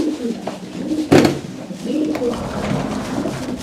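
Van Loon racing pigeons cooing in breeding pens, low throaty coos repeating in overlapping bursts with one louder call close by, set against a steady murmur of other birds.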